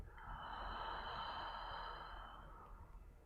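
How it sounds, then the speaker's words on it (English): A single long, soft exhale through the mouth during a gentle yoga breathing exercise, a quiet airy breath that swells then fades over a few seconds. "Exhale through the mouth."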